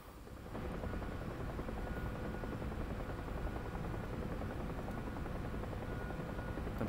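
A UH-1H helicopter in the DCS World flight simulator gives a continuous heavy rotor and engine drone, steady and even after a short fade-in, with no talk over it.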